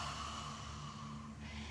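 Ujjayi yoga breath, a slow ocean-like exhale pushed through the back of the throat during chair yoga, soft, steady and close, with a faint hum beneath the airy rush.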